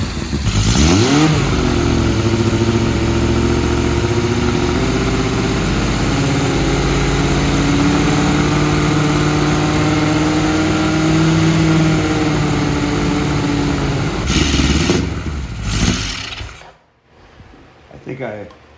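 A 1980 Kawasaki KZ1000G motorcycle engine with an idle fault runs loud and close, idling unevenly with rising and falling revs for about fifteen seconds before sputtering and cutting out.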